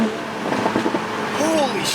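A Toyota Supra with a new downpipe and 450hp+ ECU tune lets out brief crackling exhaust burbles on the overrun, heard from inside the car in the middle of a drive, under some road and cabin noise.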